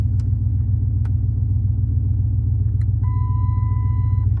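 A Chrysler 300C engine idles after a cold start in a steady, deep rumble, close and even throughout, with a few faint clicks and a thin electronic tone near the end.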